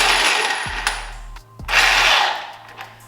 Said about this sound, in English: use an impact gun to help get you to tighten everything down